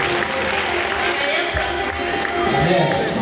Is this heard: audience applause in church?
yes